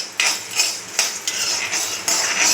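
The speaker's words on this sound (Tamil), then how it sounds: "இதை வந்து பொன்னிறமாக வறுத்து எடுத்துக்கலாங்க." Coriander seeds dry-roasting in a pan for Chettinad pepper chicken, a rhythmic run of metallic scrapes and rattling stirs, about five bright bursts in quick succession, close and fairly loud with no sizzle of oil and no voices.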